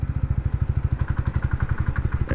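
A TVS 250cc motorcycle lugs in fifth gear at about 15 km/h. The engine gives a close, rapid, rhythmic knocking pulse that chugs on evenly without stalling.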